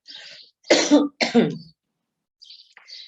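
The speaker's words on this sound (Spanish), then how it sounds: "van a tener que aguantar mi tos" Two harsh, close coughs in a row, framed by faint hissy breaths before and after.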